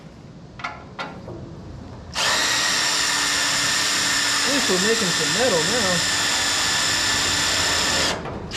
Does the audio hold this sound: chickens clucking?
no